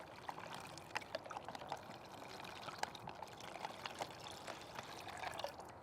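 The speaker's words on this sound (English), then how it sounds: "Then I'll fill the water to the fill line." Water pours into a plastic wasp trap up to its fill line, a steady soft trickle and splash with faint plinks, close and quiet with no talking.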